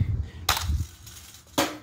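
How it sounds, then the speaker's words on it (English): Son of a Digger monster truck landing flat on the Discriminator's roof in a stadium long jump: two sharp crunching impacts about a second apart over a low engine rumble. "landing flat on the roof, destroying the Discriminator some more"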